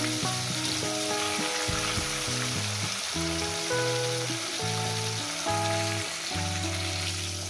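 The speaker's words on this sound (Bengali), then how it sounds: "এই মাছগুলো ভাজা হয়ে গেছে" Rohu fish pieces fry in hot oil with a steady, close sizzle that runs throughout beneath background music.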